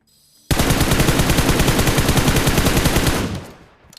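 A long rapid burst of automatic gunfire from a shooting video game, loud and continuous for about three seconds before tailing off, with no talking.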